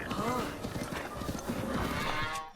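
Horses in the video game The Legend of Zelda: Breath of the Wild, taken from bokoblins, give off clip-clopping hoofbeats and snorting sounds close by in a dense, continuous stretch.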